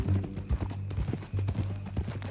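Horse hooves clip-clop at a steady walking rhythm in Red Dead Redemption 2, close and distinct over a low droning background, with no talk.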